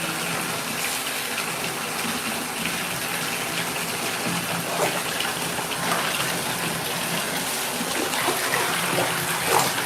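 A shower runs steadily with a full, continuous spray of water and no talking over it.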